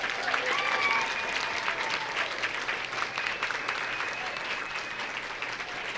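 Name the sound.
audience applause for city council, mayor and Carmen Snow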